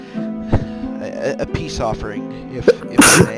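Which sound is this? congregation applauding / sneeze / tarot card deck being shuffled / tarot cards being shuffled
sneeze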